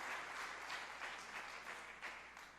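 Audience applause at a memorial tribute to Canadian reggae artist Ernie Smith, a steady wash of many hands clapping at moderate distance, sustained without pause and fading slightly toward the end.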